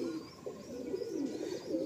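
Pigeons with lightly feathered feet coo in a loft, soft repeated throaty calls overlapping at a gentle, fairly quiet level.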